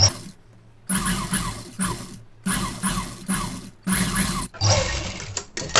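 A sewing machine stitches a lining strip onto a blouse in several loud, close bursts of rapid mechanical whirring, separated by short pauses.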